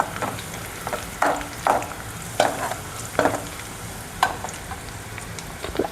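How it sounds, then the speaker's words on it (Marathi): Onion sizzling in a pan for an aloo vange recipe, a steady soft frying hiss broken by about eight sharp scraping stirs at uneven intervals, close and moderately quiet with no talking. "कांदा थोडासा लालसर झाला की छान तेवढी होऊ द्यायचा त्याला छान."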